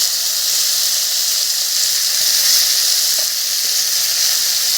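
Onion and cumin paste with turmeric sizzles steadily in a hot pan, a loud, continuous bright hiss that holds level from start to finish with no talking.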